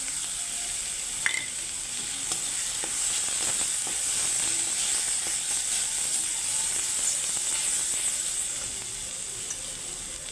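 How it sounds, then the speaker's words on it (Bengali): Ground cumin, coriander and chilli powder hiss in a pan with fried onions, a loud, even, close sizzle holding for about ten seconds with a few faint clicks of a spoon and no talking. "জিরে গুঁড়ো, ধনে গুঁড়ো, লঙ্কা গুঁড়ো সব দিয়ে দিচ্ছি একসঙ্গে।"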